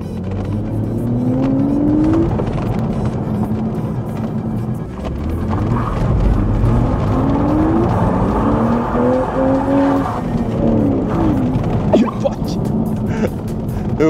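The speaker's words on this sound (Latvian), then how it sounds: "Tā mums bija jau mazais drifts jau bija." A car engine in the video game WinterBeaters revs and whines with tires squealing through a drift, loud and continuous, while a person talks over it.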